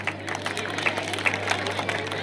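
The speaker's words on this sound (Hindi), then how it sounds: "एक बार तालियों की करतल ध्वनि के साथ अभिनंदन करें।" Applause from the audience at a community religious celebration in Bundi honoring Jagadguru Ramanandacharya, a light patter of claps with a steady electrical hum beneath, moderately near.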